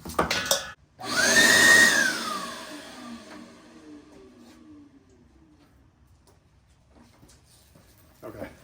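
A 4-gallon 4.5HP Shop-Vac shop vacuum with an intermittent power switch roars to life close up, runs loudly for about a second, then winds down with a falling whine. Brief clicks follow as it sits quiet.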